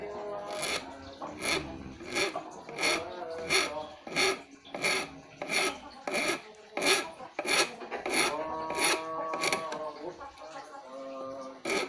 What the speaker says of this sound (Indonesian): Kita pakai kikir rata untuk melancipkan ininya ya